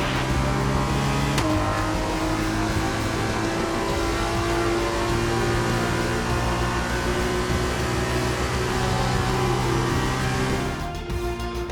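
A Hi-Tech GP Formula 2 car from the F2 2021 video game drives into parc fermé after the Monaco feature race, its engine droning loudly and steadily, shifting pitch, then easing off at the end.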